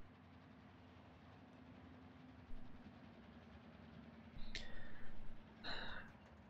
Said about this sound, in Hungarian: Vonat is megjött.